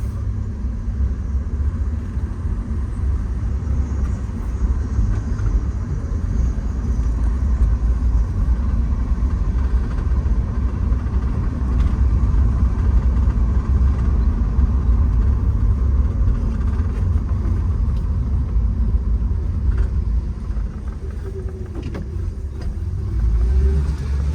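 A 1976 Dodge Dart Swinger Special with a Slant Six engine idles steadily, a low, even rumble with a quiet muffler, continuous and close for the whole stretch with no talking.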